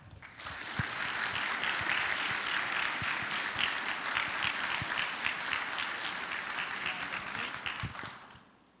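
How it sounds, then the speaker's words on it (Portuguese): Audience at a leadership symposium opening clapping warmly to welcome a doctor to the stage, a dense steady round of applause that swells, holds for several seconds and fades out. "peço que recebam com uma salva de palmas a doutora Márcia Cova"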